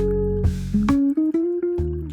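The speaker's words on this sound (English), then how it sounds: "Now, once I go to 120, I'm going to pour 60 more grams." Hot water pours over coffee grounds in a Hario V60 dripper, a 60-gram pour making a steady trickling stream whose pitch climbs as the vessel fills, close by with a few brief splashy breaks.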